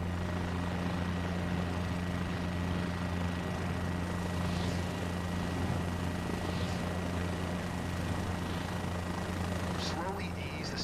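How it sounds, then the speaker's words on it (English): Simulated helicopter hovering in a flight simulator game, a steady droning rotor and engine hum with strong low tonal bands, continuous and even throughout, with a voice talking over it. "Now use pedals and turn the nose of the helicopter toward the helicopter parking on your right-hand side."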